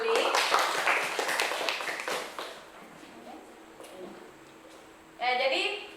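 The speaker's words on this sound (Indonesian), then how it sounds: "Tepuk tangan untuk jawaban Girly." A short burst of classroom clapping for a student's answer rings out near the start and fades, followed by quiet and then a teacher's voice speaking.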